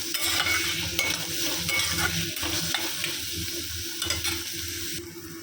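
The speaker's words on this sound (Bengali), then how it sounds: "তো পেঁয়াজগুলোকে আমি ভেজে নেব।" Onions frying in a pan for garlic lemon chicken, with a spatula stirring and scraping throughout: a loud, close sizzle broken by repeated rhythmic scrapes, no talking.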